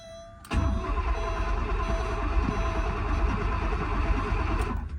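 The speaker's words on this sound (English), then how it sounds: "It turns over good. It turns over really good. The engine sounds good." A car engine cranks and turns over at a salvage auction yard. After a short quiet start, a steady mid-pitched churning begins and continues evenly at moderate level, with no talking.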